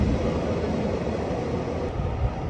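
A train stands or rolls at a tiny two-track rural station in a Japanese village, giving a steady low rumble and broadband hum that stays even and fairly close throughout, with no talking.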